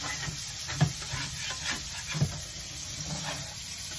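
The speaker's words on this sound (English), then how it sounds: "So I'm going to saute this here up a little bit up in here." Gravy base for a fried chuck roast sautés in a pan, a soft close sizzle with a few scraping stirs of a spoon and no voices.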